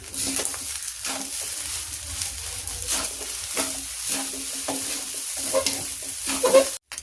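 Spatula stirring eggs through fried rice with dried shrimp in a hot pan, a continuous sizzle with rhythmic scraping strokes about once a second, close and alone.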